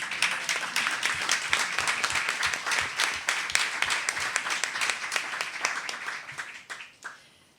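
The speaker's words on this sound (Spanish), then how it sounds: "Y por supuesto también un aplauso para Crispín" Applause from a modest audience at a book presentation, many individual claps clearly distinguishable in an irregular, fairly close patter that thins out and stops near the end.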